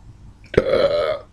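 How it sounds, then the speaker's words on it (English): A single loud, close burp from a man, abrupt onset then a voiced, rumbling tail lasting under a second against near silence. "Why am I always burping in my videos?"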